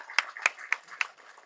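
Sparse audience claps at a film audio launch: four distinct, sharp claps spaced about a quarter second apart, fairly close and isolated, fading into faint room noise.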